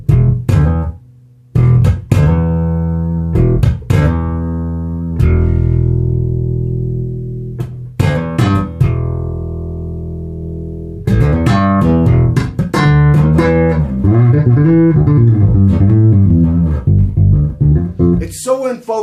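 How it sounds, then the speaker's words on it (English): Hammersmith Custom P5 bass guitar in series mode with EQ, played as a run of plucked notes and short phrases, then a busier passage of rapid articulated notes, loud and close with no talking. "I'm going to put it into series mode and hear it with some EQ."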